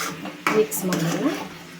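A spoon stirs sabudana khichdi in a home kitchen pan, giving a few close scraping and clinking knocks against the metal, with a voice speaking over it.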